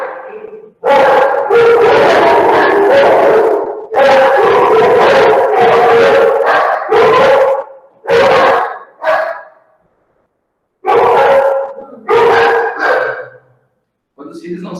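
Several puppies barking and howling together close by in a home, long loud overlapping bursts broken by short pauses, with some quieter yips near the end.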